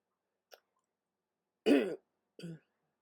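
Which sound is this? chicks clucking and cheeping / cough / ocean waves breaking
cough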